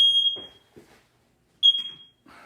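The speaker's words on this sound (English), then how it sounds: "that's my fire alarm" A household smoke alarm sounds near burning paper in a bucket, giving two loud, piercing electronic beeps separated by a pause, with faint rustling and movement between them.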